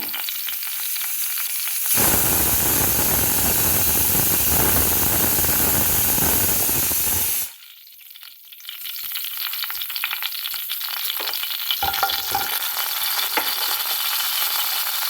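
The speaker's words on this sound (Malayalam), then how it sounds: "നമുക്ക് ഈ കടുക് പൊട്ടി വരുന്ന സമയം കൊണ്ട്" Mustard seeds crackle and pop in sizzling hot oil, loud and close, with a brief quieter pause midway before the frying picks up again.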